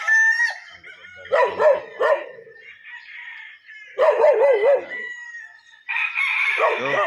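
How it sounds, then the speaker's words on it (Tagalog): Gamefowl roosters crow several times at a game farm, loud and close, with separate calls overlapping and a dog barking among them. "Kita natin yung ibang mga manok mga boss"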